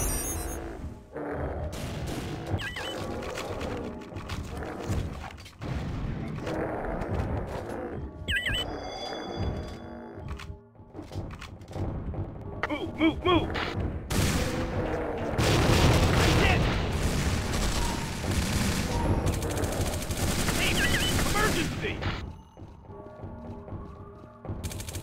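Tactical Ops Monster Attack gunfire: repeated booming shots and mechanical weapon clatter in bursts over a long firefight, with voices heard at times.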